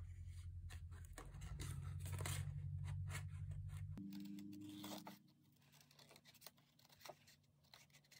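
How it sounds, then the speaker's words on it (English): Scissors trim around a decorative paper border for a Graphic 45 folio, giving a close, continuous snipping and scraping run for about five seconds before quieter, scattered rustles. "We're just going to trim around this little border."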